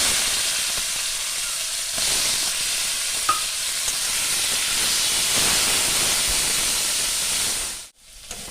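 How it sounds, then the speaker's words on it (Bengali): Shrimp fry in hot oil in a pan for a potol-chingri dish, giving a loud, steady close-up sizzle with occasional stirring. The sound cuts off abruptly near the end. "এই যে চিংড়ি মাছটা আমি ভেজে নিলাম"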